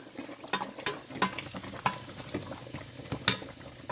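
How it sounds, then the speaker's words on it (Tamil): Raisins and cashews fry in hot oil for a sweet dessert, giving a close, steady sizzle broken by repeated stirring scrapes and small pops. "கஜு ப்ளம்ஸும் கஜுவும் நல்லா பொறிஞ்சு கொண்டு வந்துட்டுது"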